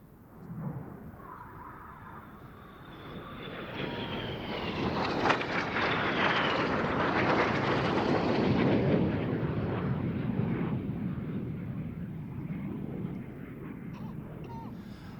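Red Arrows synchro pair jets pass low at an air show, a roar swelling from far off to a loud peak then fading slowly, with a falling whine as they go by.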